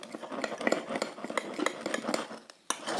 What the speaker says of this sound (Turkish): Bir karıştıralım.